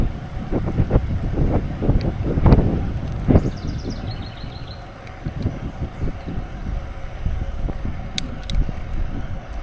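Steady wind rushes and buffets against the microphone while someone rides a Trek FX hybrid bike without a motor into a breeze. The roar is broad and continuous, with no talking.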